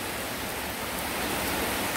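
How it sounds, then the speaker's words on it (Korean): Heavy rain pours down steadily outdoors where stray cats are being fed, a dense, unbroken hiss of water with no pauses. "비가 이렇게 쏟아져서 이거 야단 났다"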